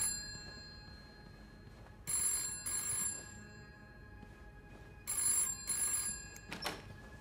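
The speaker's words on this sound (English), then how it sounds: "But if I just don't answer the phone this time." Telephone ringing in two bursts of double rings, each a bright electronic trill over a quiet room, followed by a brief shorter tone near the end.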